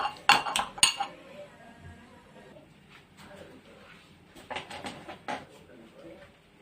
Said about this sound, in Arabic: هنحط معلقتين زبده كبار زي ما انتم شايفين، وهنحط عليهم معلقتين جبنه كيري اهو